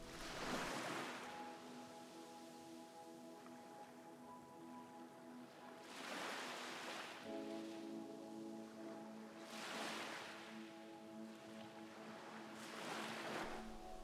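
Ocean waves wash onto a shore in slow, repeating surges about every three to four seconds, each swelling and fading, with a soft steady tone sustained beneath them.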